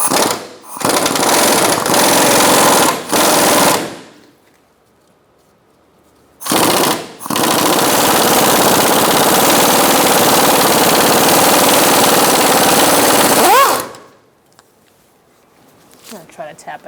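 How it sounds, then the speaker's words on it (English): A pneumatic impact wrench with a 17mm socket hammers out a bolt on a 2004-2009 Mazda 3 rear lower control arm. It fires in loud, close bursts: two short rattles, a pause, a quick blip, then one long burst. "using a 17mm socket, and my air gun, I'm going to take out this bolt"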